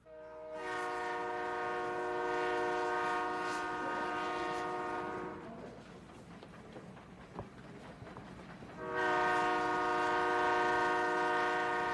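A train horn from a sound-effects library sounds a long, loud, sustained blast, drops away to a low rumbling gap, then blares again just as strongly.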